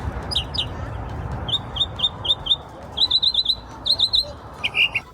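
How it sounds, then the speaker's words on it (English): A songbird sings in short, bright chirps, first spaced apart and then in quick bursts of three or four, clear above a low, steady outdoor background hum. "Songbird."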